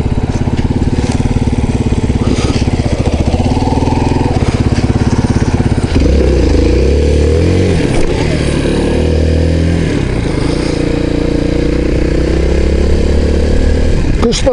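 Honda moped engine running while riding toward a river, a close, loud buzzing drone with rhythmic engine pulses that shifts pitch as the throttle changes partway through, with someone talking over it.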